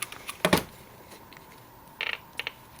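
Old tiny AM-only radio from an estate sale clicking as it is switched on: a few sharp, close clicks and crackles near the start, then another short burst of crackly static and clicks about two seconds later, otherwise quiet.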